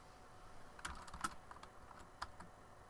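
Keys clack quietly on an Apple IIGS computer keyboard, a light irregular patter of a dozen or so keystrokes in a quiet room.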